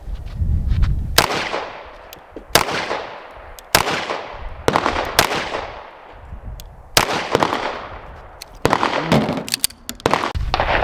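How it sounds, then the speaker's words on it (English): A Staccato 2011 pistol firing about seven loud, sharp shots at a steady, unhurried pace, each crack followed by a decaying echo. "All right, shooting the Staccato 2011."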